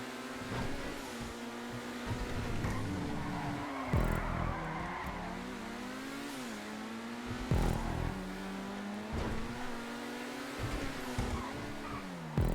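A Turismo Classic racing in GTA Online, its engine droning and revving steadily through a technical track section, with pitch swings as it shifts and brief tire scrubs on the corners.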